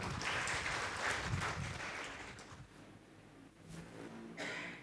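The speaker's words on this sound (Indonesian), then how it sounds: "berikan tepuk tangan meriah buat Tuhan kita" A church congregation at an online worship service breaks into applause for God, a soft, distant wash of clapping that swells early and then thins out, with a brief renewed burst near the end.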